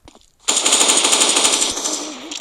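Rapid, loud automatic AK rifle fire from the Strike Port Destruction shooter game, a continuous burst of close gunshots lasting about two seconds after a brief quiet moment.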